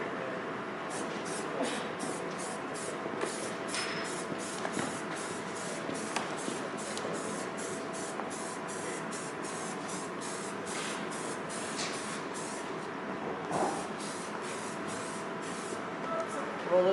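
A spray can hisses in a long continuous burst, with rapid rattling pulses and faint shuffling noises throughout, fairly close and steady.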